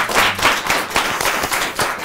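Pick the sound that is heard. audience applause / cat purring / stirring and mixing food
audience applause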